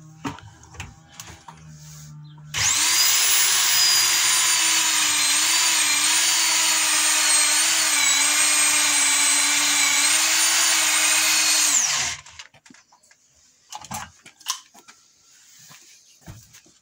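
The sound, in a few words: Hilti rotary hammer drill running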